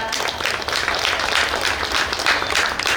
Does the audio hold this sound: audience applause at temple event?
yes